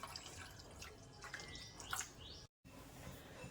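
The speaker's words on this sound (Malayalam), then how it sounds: "തേങ്ങാപ്പാൽ ഒഴിക്കാം." Coconut milk is poured into a green peas curry as a faint liquid trickle with soft drips, quiet and close, broken by a brief silence near the end.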